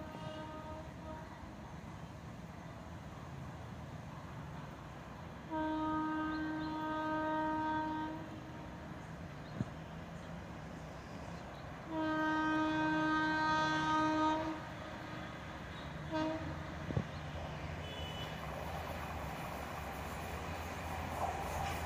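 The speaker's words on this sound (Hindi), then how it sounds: "यस तेजस एक्सप्रेस चली।" A Tejas Express train moves off as electric locomotives sound two long, loud horn blasts several seconds apart over a steady rumble of rolling rail cars, heard from trackside.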